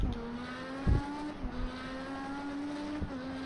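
Indycar engine on a flying lap around Spa in the Project CARS 2 racing game, a sustained high-pitched onboard drone with brief gear-shift dips and a few bumps, heard alone without commentary.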